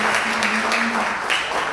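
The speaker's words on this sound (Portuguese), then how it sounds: "Dê uma salva de palmas bem forte, Senhor." Worshippers at an evening church service clap together, a steady moderate applause with a brief sung or held voice tone partway through.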